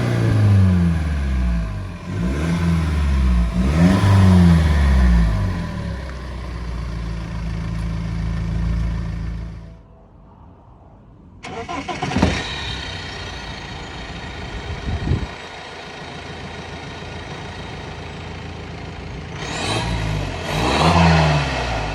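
BMW with a decat exhaust, its engine idling and revving in loud rising and falling surges, then cut off and restarted with a sharp start and a steady rumbling idle before another burst of revs.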